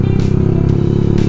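A Yamaha R15 V2 motorcycle fitted with a Leovince racing exhaust gives a loud, steady, close engine drone, thick and rumbling, held for a brief moment.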